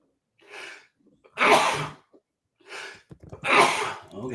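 Two loud sneezes, each preceded by a sharp inhaling gasp, burst out close by in a quiet room during a live market auction.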